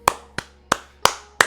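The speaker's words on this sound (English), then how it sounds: "my hands are clapping for you." Five sharp hand claps, loud and close, evenly spaced about a third of a second apart with nothing else behind them.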